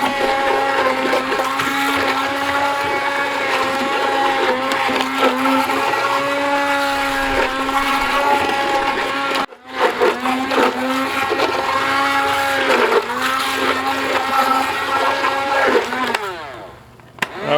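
A blender chops used filters and rags in liquid, a loud steady whirring with a brief cutoff midway before it starts again, then winds down at the end.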